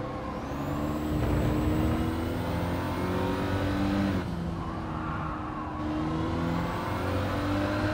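Race car engine in Gran Turismo 7 revving and accelerating continuously, loud and close, with rising and falling pitch sweeps as gears change, alone without talk.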